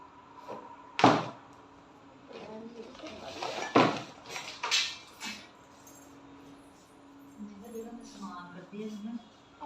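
Cooking pots and dishes picked up and handled at night, two loud clanks of metal vessels close by followed by softer rattles and knocks, with voices talking faintly in between.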